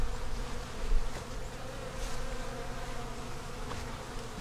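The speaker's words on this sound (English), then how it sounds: "Make sure you're not catching a bunch of bees." Honeybees around an open beehive, a steady close droning buzz with slight swells as insects pass near, no voices.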